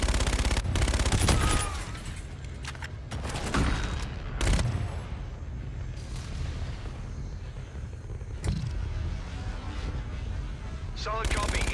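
Heavy gunfire in Call of Duty: Infinite Warfare: sharp, loud bursts of shots and blasts over a continuous rumbling battle din, with voices talking in between.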